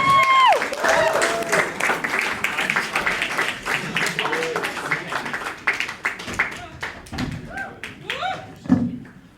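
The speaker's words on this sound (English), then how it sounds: "Let's get a big round of applause for your second to last comedian of the evening, Amelia Morcanante" A comedy club crowd applauds and cheers for an incoming stand-up comedian, dense clapping mixed with whoops and shouted voices, loud and close, tapering into scattered claps and cheers.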